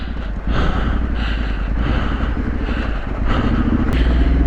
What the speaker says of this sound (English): Just slow that bike down a little bit.